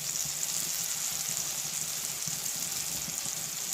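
Spices with salt frying in a pan for a vegetarian dish, a continuous bright crackling sizzle with soft stirring scrapes underneath, close and even throughout, no talking.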